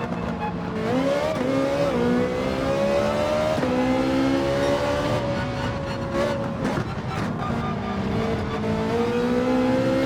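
A race car in Gran Turismo 7 drones loudly and continuously, its engine pitch jumping upward a few times as it downshifts, with a brief tire screech.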